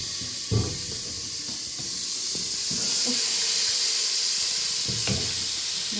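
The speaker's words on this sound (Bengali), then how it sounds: "সুন্দর মাছ ভাজাটা ভালোই হইতেছে।" Fish fries in a hot pan on a cooking fire that is not gas, giving a steady sizzling hiss with a few soft knocks from the pan.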